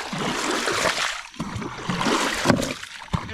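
Water is scooped and tossed from a small Temu knockoff boat with a bailing bucket, giving a few close splashes and trickles that come in uneven bursts.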